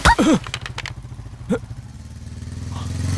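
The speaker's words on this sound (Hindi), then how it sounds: "अरे बाइक तो चलाने दो यार, आ रहा हूँ 1 मिनट।" A motorcycle being ridden in an action scene from a South Indian film. Its engine gives a steady low hum that builds gradually in loudness, with a brief voice at the very start.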